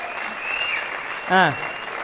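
Studio audience applause on a television talk show, a soft continuous patter of clapping beneath a voice and a thin steady electronic tone.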